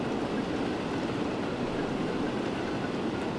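Trains in Transport Fever 2 run with a continuous, loud rushing rail rumble and steady wheel noise along an East Coast high-speed line, heard with no talking.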